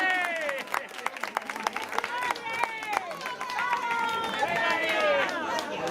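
A crowd at an election victory celebration for the Partido Popular in Jaraíz de la Vera claps steadily, close scattered hand claps mixed with cheering voices and excited chatter.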